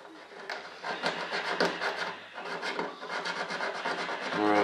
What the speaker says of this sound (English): I got to sand this carbon edge.